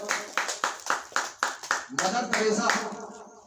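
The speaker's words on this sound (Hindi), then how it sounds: "ताली बजाओ" About eight sharp, separate hand claps land in a quick, steady rhythm, close and loud, and then give way to a short burst of fuller clapping and voices.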